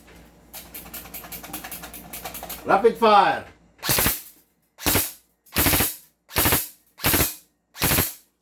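An M4A1 two-tone airsoft carbine shooting at about 544 FPS gives six sharp, loud, evenly spaced bursts of shots, following a short stretch of talk and mechanical clatter.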